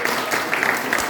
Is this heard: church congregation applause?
yes